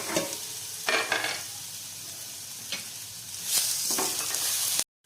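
Tomato and cashews fry in a little oil for village-style chicken rassa, a close, bright sizzle broken by several stirring scrapes before cutting off abruptly.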